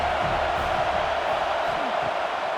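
A college football stadium crowd in a Kansas State at Utah video game roars in a steady, dense wash of cheering that fills the background, with a voice talking over it.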